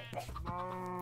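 A sheep bleats in the video game Minecraft, one short, wavering, nasal call of about a second, fairly quiet and heard on its own.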